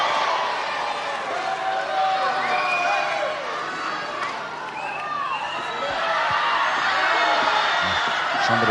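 At a televised professional wrestling bout, a crowd member shouts at wrestler Ian McGregor over the general crowd noise, with scattered yells and whoops. A commentator talks throughout.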